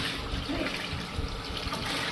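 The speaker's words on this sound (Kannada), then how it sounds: "ಒಂದು 12 ಲೀಟ್ರ್ ನೀರು ಹಾಕ್ಬೇಕು." About twelve litres of water pour into a large pot for a six-kilogram batch of upma, a continuous rushing, splashing gush heard up close.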